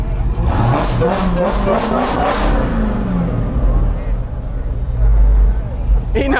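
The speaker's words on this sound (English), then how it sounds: "Y'all hear that Hellcat?" A Dodge Hellcat engine revs loudly nearby, its deep exhaust note rising and falling through a couple of pulls, with people talking and shouting over the roar.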